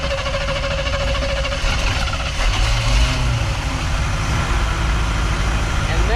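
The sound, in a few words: carbureted 4WD van engine starting up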